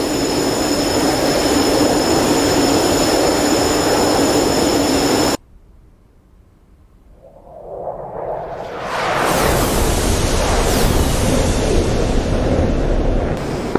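Jet engine in DCS World flight sim: loud broadband roar that cuts to near silence, then swells back up into a heavy rushing afterburner roar.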